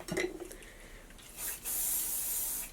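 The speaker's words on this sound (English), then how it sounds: "And then I like to tease a little bit at the root, put some hairspray." Hairspray hisses steadily in two bursts onto teased hair at the roots, after a few light clinks of handling. No one speaks during the clip.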